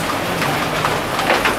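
Steady rain falls all night, a dense even hiss of drops on surfaces with no voices and no break in the downpour.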